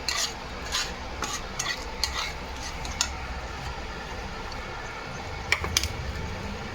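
A spoon stirs a spiced mixture with garam masala in a pan, scraping and clinking against the metal in irregular strokes over a soft background sizzle.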